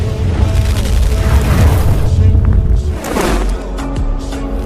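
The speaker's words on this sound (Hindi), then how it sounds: "ये सारे हमले के टकराने के वजह से वहाँ पे एक बहुत बड़ा धमाका होता है" A big cartoon explosion as clashing attacks collide, a loud sustained rumbling boom with crackling bursts that dips briefly and then roars on to the end.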